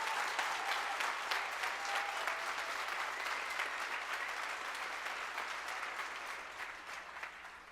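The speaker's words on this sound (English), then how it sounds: "And this is your applause for this event." A school audience at an amateur radio contact with the International Space Station applauds in a steady, fairly distant wash of clapping that slowly fades toward the end.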